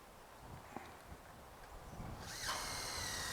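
A drill drives screws into high tunnel pipe, heard faintly; a quiet outdoor stretch gives way to a brighter whirring burst near the end.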